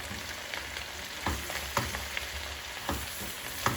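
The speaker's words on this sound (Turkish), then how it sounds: "şimdi güzelce kavuruyorum" Leeks and carrots sauté in a pan with a steady broadband sizzle, punctuated by several sharp clinks and scrapes of a utensil stirring the vegetables at irregular intervals; close and moderately loud, no talking.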